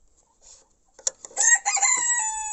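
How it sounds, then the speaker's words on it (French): A red porcelain bantam rooster crows once from a hutch, loud and close, a sharp start followed by a sustained, strained call, with a few faint clucks just before it. "c'est le coq porcelaine rouge que j'ai eu au mois d'octobre"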